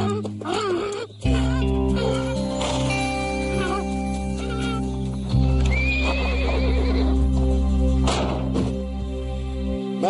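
A horse whinnies loudly several times over a steady low hum, with hooves clopping intermittently; no speech.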